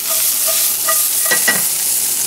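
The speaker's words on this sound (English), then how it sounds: "So we're gonna do the fennel, the garlic, the onion, the chili. We're gonna toast it a little bit." Fennel, garlic, onion and chili toasting in a pan give a close, steady sizzling hiss with a couple of quick stirring scrapes, all without talk.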